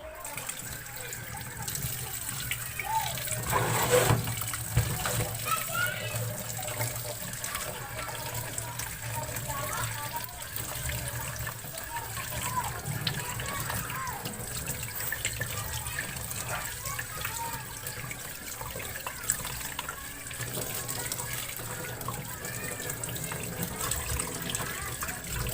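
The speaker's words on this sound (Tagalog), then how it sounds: "Babanlawan natin sa tubig." Silver jewelry is rinsed under running tap water, a continuous splashing gush that carries through the whole stretch, with a louder burst early on and a voice talking over it at times.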